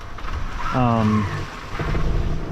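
Steady wind rushes and buffets across the microphone aboard a 28ft sailboat at sea in waves, with a brief voice heard partway through.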